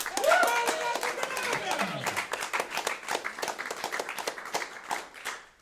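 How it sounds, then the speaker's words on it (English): Audience applause for a live band on a Portland show, brisk close clapping throughout with voices talking over it. "Can I get a round of applause for our band?"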